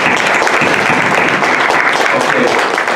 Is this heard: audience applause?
yes